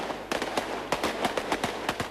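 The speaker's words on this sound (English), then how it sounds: "Volleys of gunfire over the heads of demonstrators, entire magazines emptied into the sky." Volleys of live-round gunfire crack out over protesters' heads at a Bangkok demonstration as troops empty magazines into the sky: a rapid, uneven string of about a dozen sharp, loud reports in quick bursts.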